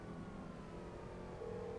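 Police sirens wail faintly in the distance during a GTA 5 chase, a thin steady tone riding over low engine and street noise in a brief stretch without speech.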